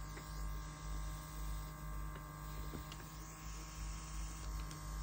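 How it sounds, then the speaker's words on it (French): Small electric suction pen vacuum motor for diamond painting whirs steadily, a constant close buzzing hum with a faint pulsing throb and no talk. "il faut un petit peu augmenter la puissance de l'aspiration pour avoir vraiment les 3 diamants pris"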